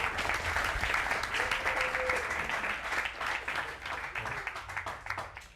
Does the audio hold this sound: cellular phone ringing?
no